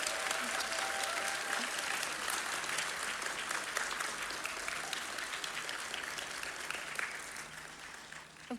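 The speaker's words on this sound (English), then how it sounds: "Let's have another round of applause for all our student performers." Sustained audience applause at a student spring music recital, a dense wash of many hands clapping steadily from moderately near, tapering slightly toward the end.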